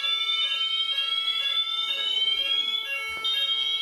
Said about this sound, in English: the Faraday strobe is going off, and the Banshee Sounder over there